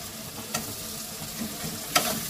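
Raw tomatoes and onions sizzle in a hot pan for a katla fish head dish, a soft, even frying hiss broken by a couple of sharp stirring scrapes.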